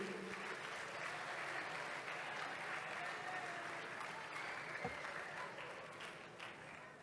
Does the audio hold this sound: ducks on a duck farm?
no